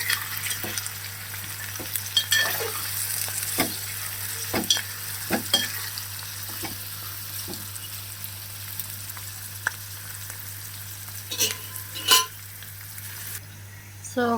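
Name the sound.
stirring fish curry with a ladle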